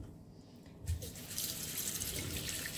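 Plain tap water runs into a Thermomix (Bimby) jug, starting with a soft thump near one second and then settling into a steady, close, broadband rush of filling water with no talking.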